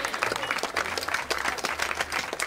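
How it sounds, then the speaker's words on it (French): An audience at an evening festivity claps warmly for its hostess, a lively mix of close and distant hand claps with a low hum beneath, loud and uneven for a couple of seconds. "applaudir chaleureusement notre adorable hôtesse"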